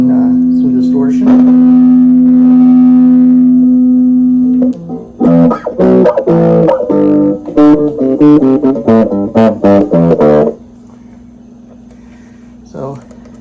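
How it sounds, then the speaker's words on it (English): A Danelectro HoneyTone mini amp with distortion on: an electric guitar plays a sustained note, then a choppy burst of rhythmic chords before settling back to a held tone; loud and close. "we can even turn on some distortion."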